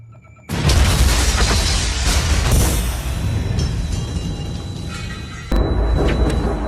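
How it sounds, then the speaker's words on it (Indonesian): A loud, sudden explosion in a Money Heist scene bursts in and sustains as a roaring, crackling rumble, followed by a second sharp hit near the end. "meledakkan ruangan tersebut"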